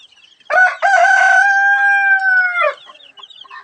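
A rooster crows once, loud and close, in one long sustained call of about two seconds, with faint chicken clucks and chirps before and after, from chickens kept on a house rooftop.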